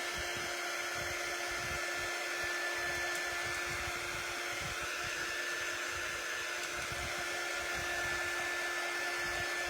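Hair dryer blowing steadily on a shimmer craft transfer, a continuous close whirring roar with a faint whine that holds level throughout with no voices.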